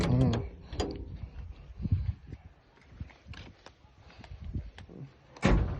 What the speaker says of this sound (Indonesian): Suara pintu renyah.